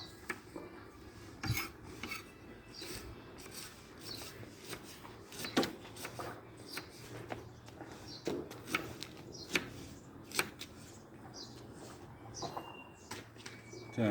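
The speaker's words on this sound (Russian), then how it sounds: "Вот такие небольшие кубики буду резать" A knife chops onion into small cubes on a board in a home kitchen, preparing Tajik reza-shurpa soup, with a steady run of close, sharp, irregular taps and rasping scrapes.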